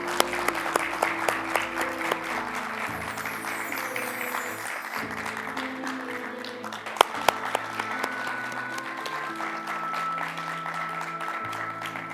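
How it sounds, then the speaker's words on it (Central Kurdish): Sustained applause from an audience at a Kurdish book event honoring Kak Goran's novel Mala Gharib, dense steady clapping filling the room with a few sharper close claps, while music plays underneath. "ئێستاش پێکەوە بە چەپڵەیەک بە خێراتنی کاک گۆران دەکەین بە بۆنەی کتابەکەی ڕۆمانی مەلا غەریب"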